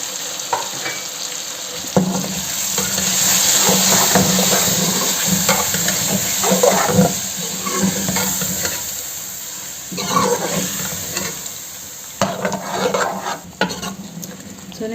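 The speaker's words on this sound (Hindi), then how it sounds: "मुसलसल आपने चमचा चलाते रहना है।" Four tablespoons of yogurt sizzle and hiss in a hot pan for chicken jalfrezi while a spoon stirs continuously, scraping now and then, with the frying noise steady and close.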